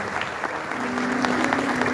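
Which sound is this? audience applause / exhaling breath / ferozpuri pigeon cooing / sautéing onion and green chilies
audience applause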